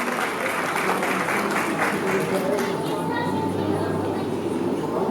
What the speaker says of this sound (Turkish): Alkışlarla efendim